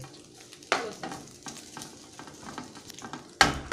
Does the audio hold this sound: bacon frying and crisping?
yes